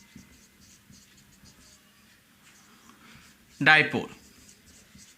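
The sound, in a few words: writing on a board during a lecture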